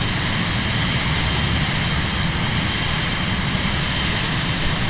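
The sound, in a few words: jet aircraft engine in Microsoft Flight Simulator video game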